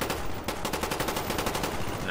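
Rapid, continuous SMG gunfire in Black Ops 1 on Xbox 360, with evenly spaced shots forming one sustained automatic burst at a steady, moderately loud level.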